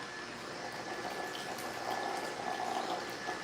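Purple cabbage juice pours steadily into a container, a continuous close liquid splash and trickle.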